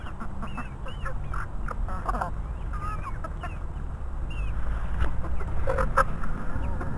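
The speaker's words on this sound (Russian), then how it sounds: "Вот, даем еще травку своим курочкам." Backyard chickens fed fresh green grass, with several hens clucking and trilling close by over a steady low rustle as they peck and eat, the calls growing busier toward the end.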